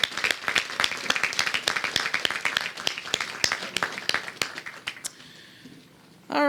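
An audience at a Hillsborough County Veterans Day celebration applauds the awardees, with steady, moderately loud clapping from a crowd for about five seconds before it thins out and stops.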